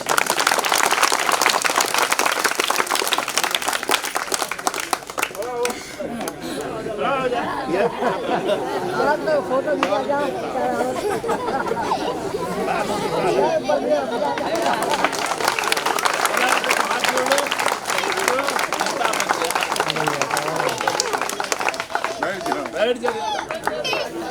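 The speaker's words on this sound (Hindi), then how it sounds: "जोरदार इस नेता के नाम पर ताली बजाइए।" Crowd at a political rally clapping and cheering, loud at the start and again later, with chatter and voices from the gathering throughout.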